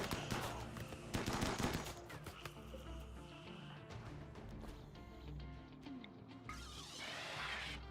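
Rapid bursts of video game gunfire, clattering volleys and sharp cracks clustered early, then scattered shots and rumbling noise, ending with another hissing burst.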